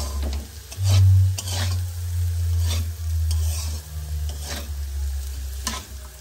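Food sizzles steadily in a hot pan while a utensil scrapes and stirs it in repeated strokes, close and fairly loud.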